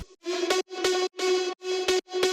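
Progressive house synth pluck layer run through effects: repeated chopped, pumping notes on a single pitch with gated gaps between them and bright sweeping noise, loud and alone without speech.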